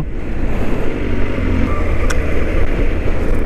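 A Kawasaki H2 SX motorcycle climbs uphill roads, its engine a loud, continuous roar mixed with heavy wind rush, close and steady throughout.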